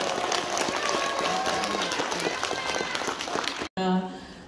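A concert audience applauds with dense, sustained clapping from a large crowd, then a brief cut and quieter sound afterward.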